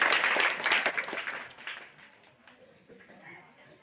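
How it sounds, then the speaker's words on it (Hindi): Applause from a gathered crowd at a Satnami community Satnam Rawti event in Khairwar Khurd, Lormi, honoring a guest, loud at first and gradually thinning and fading, with faint background voices. "जोड़ ताली से सम्मान करेगा"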